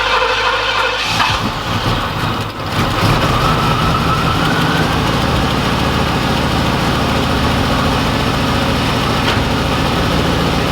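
An LB9/L98 tuned port injection V8 is started with no spark advance, cranking briefly, catching, then settling into a loud, steady idle close by.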